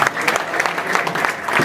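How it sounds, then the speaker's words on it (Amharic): A church congregation at a worship service claps together, dense and fairly loud with rhythmic pulses of hands, while voices carry faintly underneath. "ኦ ለእግዚአብሔር ክብር አጨብጭቡ እስቲ"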